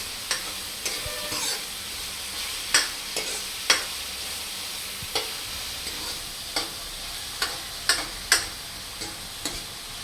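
Mutton curry being stirred in a pan, with a steady soft sizzle and scattered sharp scrapes and clinks of the spoon against the pan, recurring irregularly at close range with no talking.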